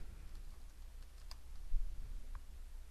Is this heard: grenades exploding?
no